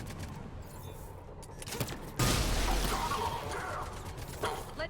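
Gunfire and impacts in the sci-fi video game Mass Effect 3, a few scattered shots followed by a sustained loud crashing burst of combat noise, close and dense.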